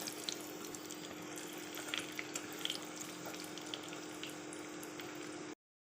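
Chicken wontons frying in hot oil give a steady, fine crackling sizzle with brief popping bursts, moderately close and without talk, cutting off abruptly near the end.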